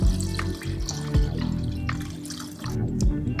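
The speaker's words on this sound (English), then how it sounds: "pour in your water" Water pours into a stock pot holding chicken, parsley and onion, an uneven splashing and gurgling with a few sharper drips and bursts, close and fairly loud throughout.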